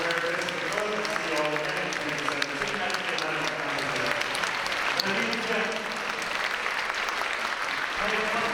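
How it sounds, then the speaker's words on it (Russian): Sustained audience applause at an international young opera singers competition, steady dense clapping from a large hall filling the whole stretch without letting up. "И ваши аплодисменты ей"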